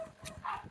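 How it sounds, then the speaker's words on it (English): Indoor dogs let out a couple of short, fairly faint barks in under a second, heard in the background of a quiet room. "Oh, I am so sorry about the dogs."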